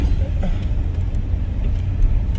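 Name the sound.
car turning into a garage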